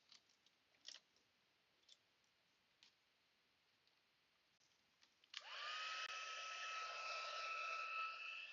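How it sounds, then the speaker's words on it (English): After a few faint clicks and taps, an embossing heat tool switches on and blows a steady, close whirring rush of hot air over embossing powder, holding at an even level to the end. "let's grab our heat tool and see what we get"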